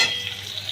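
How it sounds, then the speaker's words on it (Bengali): Onions fry in hot oil in a pan while being stirred, giving a brief, close sizzle with a soft scraping swirl over less than a second. "পেঁয়াজগুলো দিয়ে একটু ভালো করে নাড়াতে হবে।"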